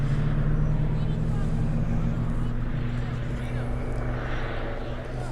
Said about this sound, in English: Helicopter right over the field today. It's as low as a helicopter can get